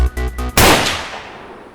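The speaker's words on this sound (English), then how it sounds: "Heard a gunshot." A single loud gunshot in a teen horror video game with stalkers and rain, a sharp blast with a long fading tail, preceded by a brief rhythmic stutter of game sound.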